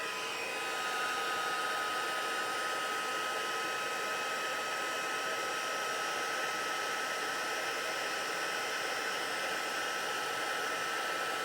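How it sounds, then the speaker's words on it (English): A heat gun blows steadily with a constant high whirring hiss, unbroken and fairly close throughout. "grab my heat gun so I can get that heated up"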